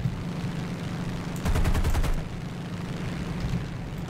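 An aircraft's machine guns fire a single rapid burst of about half a second in War Thunder, loud against a constant engine drone.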